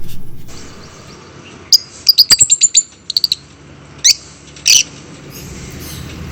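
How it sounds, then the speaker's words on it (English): Small African lovebird parrots chirp in short, sharp bursts, with a quick run of repeated tweets followed by a few isolated calls against a quiet background. "These tiny little parrots live in pairs, sitting together, grooming each other, communicating with loud chirping noise."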